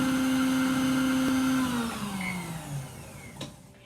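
An electric mixer creams butter and sugar for cupcakes, a steady whirring motor hum that winds down and slows toward the end, close and loud with no talking.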